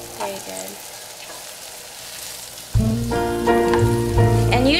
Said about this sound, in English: keep that cooking for a little bit until you can hear a little bit sizzling in there